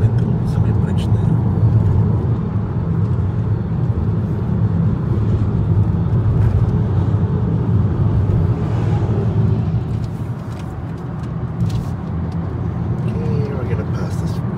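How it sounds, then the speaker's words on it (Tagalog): A car overtaking a big truck in heavy traffic, with a steady low engine and road roar that swells and eases slightly, heard from inside the vehicle under faint background noise. "Okay, we're gonna pass this big truck."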